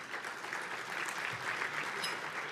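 Applause from an audience at a Boys and Girls Clubs awards event, a steady, moderate patter of many hands clapping heard from some distance, without voices.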